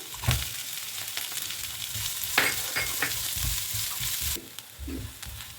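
Finely chopped green chilli, ginger and onion sizzle in a pan for mini aloo samosa filling, a steady close-up crackle punctuated by scraping and stirring knocks from the utensil.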